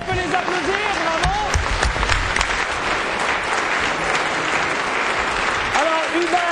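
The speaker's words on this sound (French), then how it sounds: "On peut les applaudir, bravo!" A school quiz tournament audience claps for the winning college team, steady loud applause filling the room while a voice speaks briefly over it at the start and again near the end.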